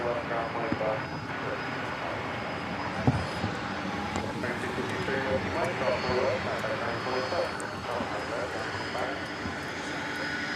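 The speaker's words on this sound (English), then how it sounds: "We will pick up this MD-11 in progress" An MD-11 jet airliner rolls past at DFW Airport at night, a steady broad engine roar holding throughout and rising slightly in the middle, close and loud.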